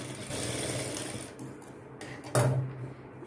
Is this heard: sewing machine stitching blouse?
yes